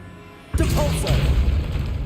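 A Depulso spell cast in Hogwarts Legacy inside a tomb: a sudden loud whoosh-boom bursts in after a quiet half-second and rolls on as a dense, rumbling blast with faint swishing overtones.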